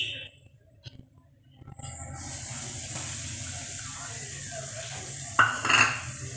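Ragi flour is added to a pan over a medium flame and stirred, giving a soft steady scraping and light sizzle, with a brief clatter of utensil near the end.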